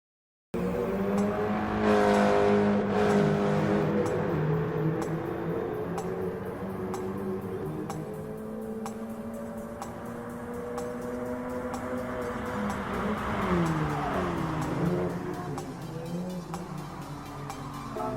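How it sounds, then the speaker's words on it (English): Race cars in Gran Turismo Sport, two Expos, climb toward an uphill corner section, engines droning loudly and steadily with rising and falling pitch as they work through the bend, with faint ticking and brief tire squeal. "two Expos are racing in on towards the uphill corner section"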